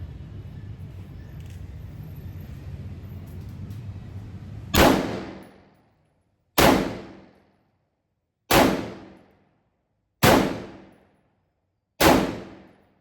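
Five sharp, loud rifle shots from a Grand Power R15 ring out at steady intervals of about two seconds, each cracking and then trailing off in a short echoing decay, following several seconds of low background rumble.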